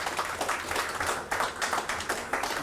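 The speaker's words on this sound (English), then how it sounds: "Another round of applause for Steve" Conference audience gives a round of applause for a speaker, steady clapping from a moderate crowd, somewhat distant and moderately quiet, carrying on throughout.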